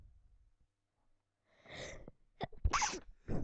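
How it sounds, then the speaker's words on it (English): A single sneeze close to a hairy microphone, with a breathy build-up and then a sharp burst, followed by snorting breaths in an otherwise quiet room. "It's making me sneeze."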